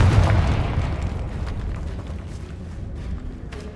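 A Confringo blasting spell goes off in Hogwarts Legacy with a loud, deep, rumbling explosion at the start that decays into a long, roiling tail with scattered crackles, heard alone without talk.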